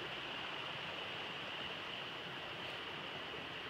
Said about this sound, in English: is where the water goes out.